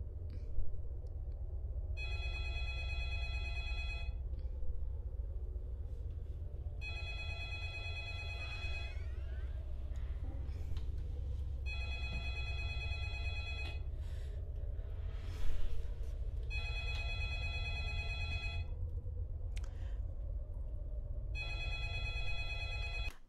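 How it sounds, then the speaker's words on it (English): Telephone ringing in a horror short film, a steady series of evenly spaced electronic rings with short pauses between them, heard over a low, constant rumble with no talking. "y'all phones be ringing a hella long"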